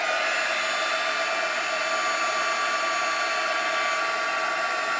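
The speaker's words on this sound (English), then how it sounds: "I'm going to take the heat gun again to this till it embosses" A heat gun blows steadily over embossing powder on a wood beach board, a loud, constant airy whir that holds unchanged from start to finish with no talking.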